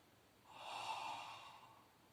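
Strong, deliberate breath during a Pilates exercise, a single long airy exhalation that swells and fades over about two seconds, quiet and close with no talking.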